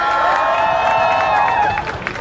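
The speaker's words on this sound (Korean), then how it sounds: "함성!" A crowd of Korea University students cheering and shouting outdoors while awaiting presidential candidate Yoo Seung-min at a 2017 campaign street greeting, a loud mass of sustained voices that thins out toward the end.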